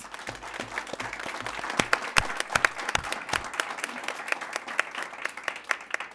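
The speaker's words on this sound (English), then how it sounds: "Let's give our candidates a round of applause." An audience at a school board candidate forum applauds the candidates, with many individual claps standing out sharply over a busy, sustained patter that continues to the end.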